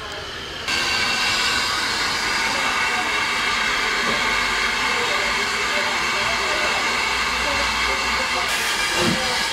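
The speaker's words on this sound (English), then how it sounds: "Catching a steam train now." Steam train on the Bluebell Railway at East Grinstead, heard as a steady, loud hiss and rumble of steam and rail noise throughout, with faint voices in the background.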